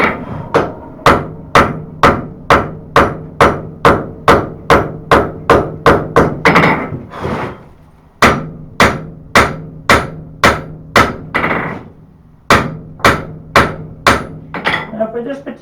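A hand hammer strikes a steel knife preform on an anvil during forging, drawing out a taper: loud, close, evenly paced ringing blows in quick runs, broken by two short pauses before the steady pounding resumes.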